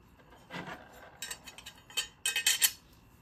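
Filing and radiusing the metal gearbox of an FN SCAR rifle gives quiet, short rasping strokes in small bursts with brief pauses, close and soft, plus a faint clink.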